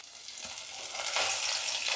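Fish pieces frying in a pan after being turned, giving a steady close sizzle with soft crackling that swells slightly partway through.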